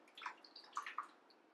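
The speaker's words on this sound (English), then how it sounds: "I've got my marinade. I'm just going to pour that right on top." Marinade poured over a pork shoulder in a Dutch oven, a few soft wet splashes and trickling drips, faint and close, with no voices.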